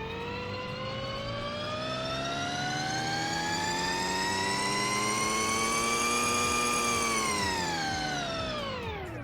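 A Volkswagen ID.R Pikes Peak race car in the Roblox game Vehicle Legends gives a loud, sustained whining engine note that climbs steadily in pitch for several seconds, then drops away near the end, jet-like and uninterrupted.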